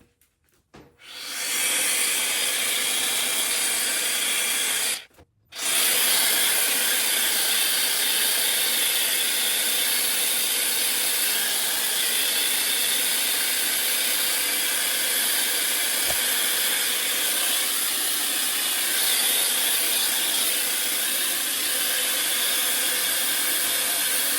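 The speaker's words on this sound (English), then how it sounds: "And then I just blow dry it." Hair dryer blow-drying a wig, a steady loud airy rush running almost without pause, cutting out briefly once before resuming and holding to the end.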